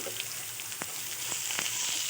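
Finely chopped onion hits hot oil with curry leaves and black pepper, giving a faint, steady sizzle broken by a few soft clicks of stirring.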